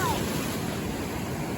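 Ocean surf washes against rocks in a continuous broad roar with wind buffeting the microphone, steady and close throughout with no distinct breaks.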